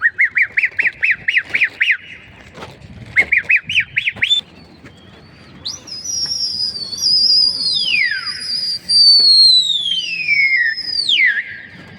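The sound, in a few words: pigeons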